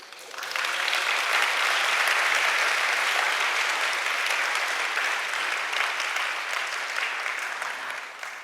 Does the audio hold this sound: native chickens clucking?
no